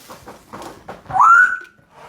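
A chair creaks once, a short rising squeak after some soft shuffling and rustling, close by and fairly loud.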